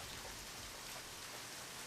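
Rain falling in the game Deadly Premonition, a brief, faint and steady wash of hiss with no voices.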